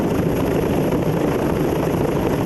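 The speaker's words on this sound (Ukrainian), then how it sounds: "були відпрацьовані посадки, злети вертольотів морської авіації на палубу фрегата Гетьман Сагайдачний" Military naval helicopter landing on and lifting off the deck of the Ukrainian frigate Hetman Sahaidachnyi during a naval exercise: a steady, loud rotor and engine roar that fills the whole stretch without pause.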